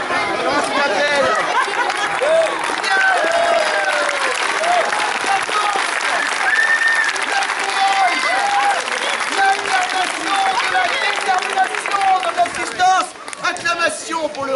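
Sustained loud applause and cheering from an outdoor crowd watching juggling and acrobatics street performers, steady clapping with shouts and whistles over it, then thinning out near the end.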